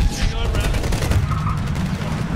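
Sustained rapid gunfire from a Medal of Honor battle in Afghanistan rattles on loud and close throughout, with voices faintly mixed in.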